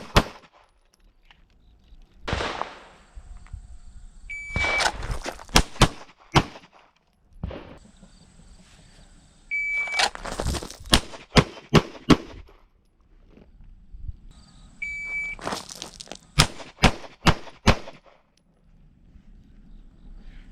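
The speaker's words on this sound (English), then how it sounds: "I'm gonna shoot your entire course of fire from the hip," Handgun shots fired from the hip during a law enforcement qualification course: three strings of sharp, loud cracks in quick succession, each preceded by a short beep, with quiet pauses and faint outdoor background between strings.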